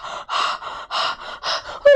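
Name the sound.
storyteller imitating panting of running pigs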